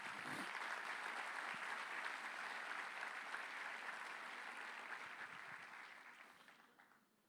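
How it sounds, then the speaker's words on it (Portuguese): A church congregation applauds Jesus during a Sunday service, a broad wash of clapping from many hands that holds steady and then fades out near the end, fairly distant and soft. "Você pode aplaudir Jesus por isso?"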